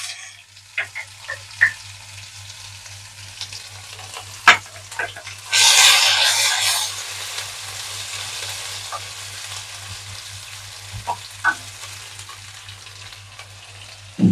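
Cumin seeds dropped into hot oil sizzle in a loud burst of frying for about a second, then settle back to a quieter crackle with scattered clicks of a spoon against the pan.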